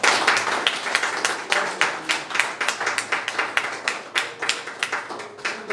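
A church congregation claps for the Lord in a loose rhythmic pattern, sharp clustered hand claps arriving in regular pulses, close and fairly loud, with no speech over them.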